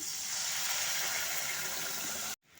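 Water rinsed from a spice bowl pours into a pan of sesame-peanut masala, a steady splashing gush lasting about two seconds before stopping abruptly.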